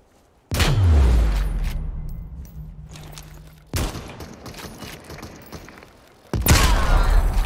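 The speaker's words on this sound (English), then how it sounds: "I got one with the airstrike" Airstrike explosions in the Super People battle royale game: three heavy booming blasts, each a loud broadband burst with a long rumbling tail, spaced a few seconds apart and heard alone.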